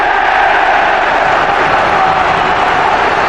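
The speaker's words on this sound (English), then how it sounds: "The noise is deafening, isn't it? The crowd have been absolutely fantastic." A huge football stadium crowd roars continuously at a 2001 Liverpool match, a loud dense wall of cheering and chanting that stays steady from start to finish.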